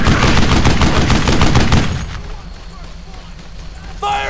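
Rapid loud gunfire in the Brothers in Arms: Earned in Blood game hammers for about two seconds, then drops away to a quieter battlefield backdrop, with a voice shouting near the end.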